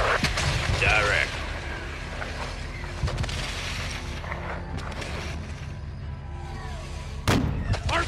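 Gunfire and explosions from the Call of Duty: Modern Warfare II campaign: scattered shots and booms rumble under busy battle noise and voices, with a sharp loud blast near the end.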